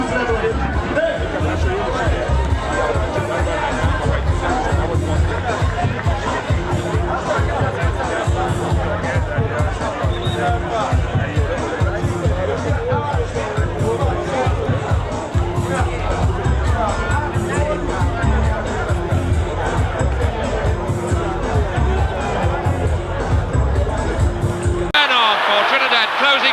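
A large crowd roars and cheers steadily at an intercollegiate athletics meet in Jamaica, a dense wall of voices holding throughout before it cuts off abruptly near the end.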